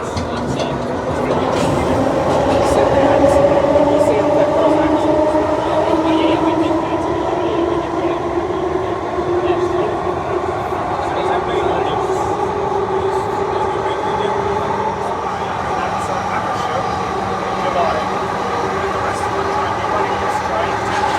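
A London Underground 1938 stock train running, with a continuous rumbling roar of wheels and motors and rising and falling whine tones, steady and close throughout, with faint voices now and then.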